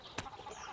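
Cartoon chicken clucking in an animated comedy, a short sharp squawk followed by a faint, busy background of clucks and farmyard sounds.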